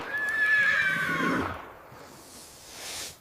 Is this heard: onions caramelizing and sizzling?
no